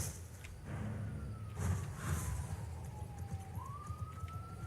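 A siren wails faintly in the distance, its tone sliding slowly downward and then rising again over a low background rumble.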